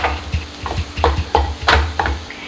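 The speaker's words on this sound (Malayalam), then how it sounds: "നന്നായിട്ട് മിക്സ് ചെയ്യുക." A spoon scrapes and stirs through minced cooked chicken filling for pinwheel samosas in a pan. The strokes are quick and uneven, close and fairly loud, with soft sizzling behind them.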